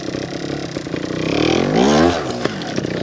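A Honda Montesa 315R trials motorcycle engine runs steadily while being ridden, rising in a brief rev with rattling and scraping in the background, loud and close with no talk.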